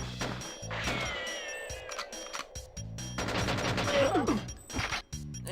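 Gunfire from the shooter Tomorrow Never Dies 64 comes as a few short, punchy bursts of game shots mixed with other effects and a melodic background tone, close and fairly loud.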